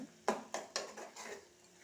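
Ginger garlic paste being stirred in a cooking pan, with four quick metallic scrapes and clinks of a spoon against the pan in an even rhythm over a faint sizzle.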